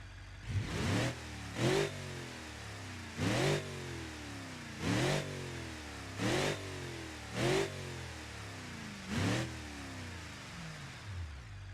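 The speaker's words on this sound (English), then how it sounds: "I want you guys to take a listen at this engine sound." A car engine in the driving game BeamNG revs up and drops back repeatedly, seven sharp revving bursts at a steady rhythm over a low idle, with no talking.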